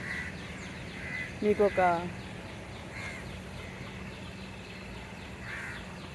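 Two birds, likely crows, call out with a few harsh caws around the middle, moderately loud against a steady outdoor hum, while a person speaks briefly.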